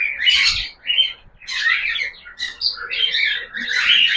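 Baby cockatiels chirping and squawking in a run of shrill, raspy calls with short gaps between them, close and loud.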